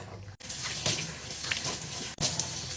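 Tap water runs and splashes at a sink while a face is washed with cleansing foam, a close, steady gush broken by two brief pauses, with no talking.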